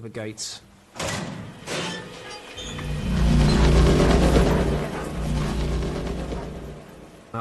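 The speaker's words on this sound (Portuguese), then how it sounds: "ouvimos um ruído de porta." A door bangs and thuds near the start, followed by rumbling mechanical movement and a low continuous drone.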